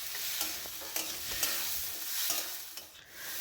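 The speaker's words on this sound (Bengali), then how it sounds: "দিয়ে সমস্তটা খুব ভালো করে একটু ভেজে নেব" Red lentils, potatoes and a medium tomato fry and sizzle in a pan, a steady hiss broken by repeated scraping stirs of a spatula, close and alone with no voices.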